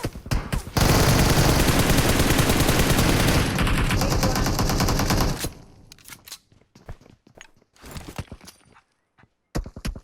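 Gunfire in the mobile battle-royale game PUBG Mobile erupts as a loud, sustained burst of rapid automatic shots lasting several seconds, then gives way to scattered single shots and quieter clatter.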